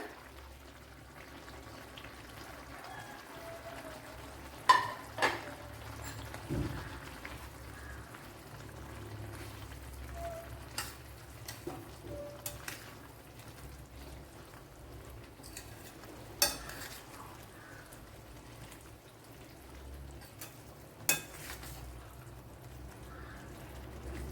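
Soft sizzling of bitter gourd frying in a pan, with occasional sharp clinks and stirring scrapes against the cookware.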